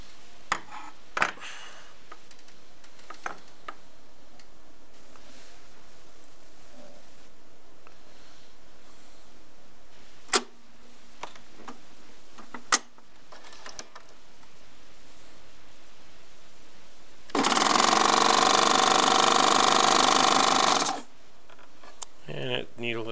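A Baby Lock serger runs in a single loud, fast buzzing burst of a few seconds as it sews and cuts a seam, preceded by quiet clicks and handling noises.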